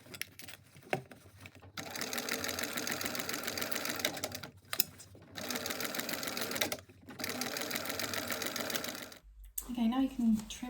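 A sewing machine runs in several long bursts, stitching a backpack lining closed with a half-inch seam; the steady mechanical whir stops briefly between runs, and a voice speaks near the end.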